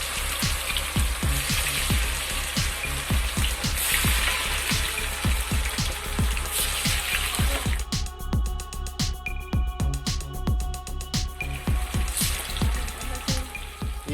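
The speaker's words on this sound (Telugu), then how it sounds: "ఇప్పుడు మసాలా చికెన్ పీసెస్ని నూనెలో వేసుకోవాలి." Masala-coated chicken pieces frying in hot oil in a kadai, a steady close sizzle with a fine crackling hiss running continuously and a regular ticking pulse of popping droplets throughout.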